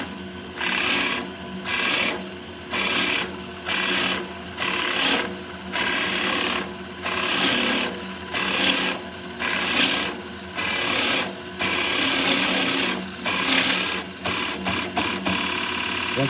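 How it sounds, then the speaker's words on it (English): A drill press bores down through material in a workshop, giving a grinding, rasping cut that swells and eases in a steady rhythm of pulses, close and alone. "I'm going to take and drill all the way down until that stops."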